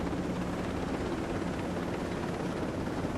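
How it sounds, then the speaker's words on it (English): Helicopter flying in the video game Ghost Recon Breakpoint, a steady dense rotor and engine roar, loud and continuous with no talk. "Trying to keep this helicopter going as long as possible."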